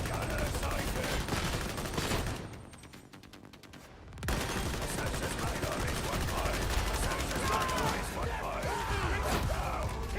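Video game heavy gunner firing, sustained rapid bursts of gunfire with loud crashing impacts, dropping to a brief quieter gap before the barrage resumes, with voices talking over it.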